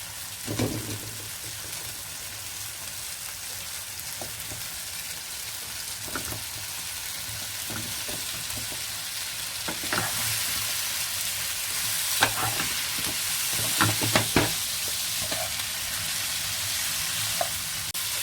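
Paneer, an Indian cheese, sizzles steadily in a hot pan, a constant hiss at moderate level. A few scattered spatula taps and scrapes break through it, and no voices are heard.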